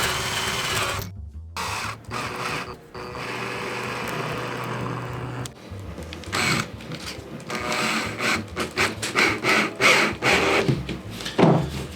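Wooden canvas stretcher bars are screwed together with a power tool, bursts of whirring motor and woody creaks and knocks filling the space, loud and close, with brief pauses between runs.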